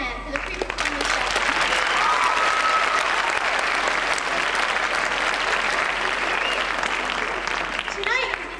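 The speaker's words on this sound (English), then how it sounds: "let's give another round of applause to Mr. Heller and the jazz band for the pre-performance show." An audience at a 1988 high school talent showcase applauds the jazz band, sustained dense clapping from a large crowd that holds steady and loud throughout, with no talking over it.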